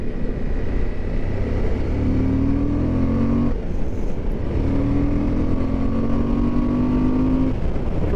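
A 2021 Suzuki V-Strom 1050 motorcycle engine revs hard and pulls through rising gear sweeps, loud and close, with a brief dip around a gear change and no talk.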